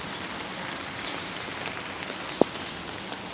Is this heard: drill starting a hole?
no